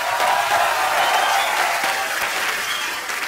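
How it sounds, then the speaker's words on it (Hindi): Audience on a comedy show bursts into loud, dense applause, a continuous wash of clapping that stays strong throughout and eases slightly at the end, with no talking over it. "अक्षय बाजी के लिए जोरदार तालियां हो जाए एक बार"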